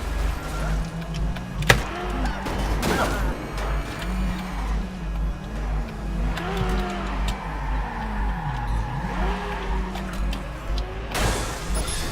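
Cars in the open-world video game Watch Dogs rev and pass by, their engine pitch rising and falling in repeated sweeps, with a few sharp impacts and no talking.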